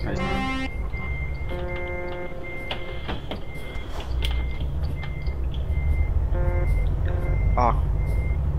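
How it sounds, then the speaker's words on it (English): A vehicle's reversing alarm beeps over and over in a regular pulse, loud and close, above a constant low engine rumble while it tries to get unstuck from a lip on the way in. "You beep once, don't you? Keep beeping."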